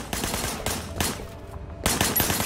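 Automatic gunfire from the video game Sleeping Dogs crackles in several loud bursts, broken by a short lull before a final burst.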